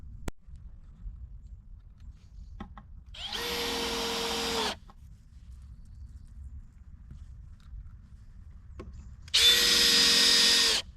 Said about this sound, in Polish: teraz idzie metalowy kątownik i później dwoma śrubami skręcam